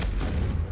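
Confringo blasting spell going off in the Hogwarts Legacy video game, a deep, booming explosion rumbling loud and close for under a second.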